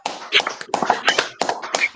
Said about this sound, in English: Let's clap it up for Officer Ban one more time.